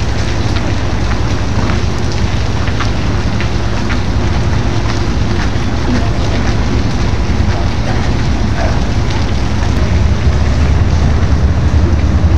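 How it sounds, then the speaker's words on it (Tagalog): Steady rain falls throughout, a dense, continuous hiss with broadband wind-like noise and no voices, as if heard from inside or beside a vehicle carrying passengers. "Yan na, medyo mahina na ang ulan."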